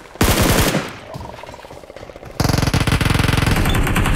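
Gunfire in the game PUBG Mobile, loud automatic bursts of rapid shots at the start and again in a longer sustained stretch, close and dense.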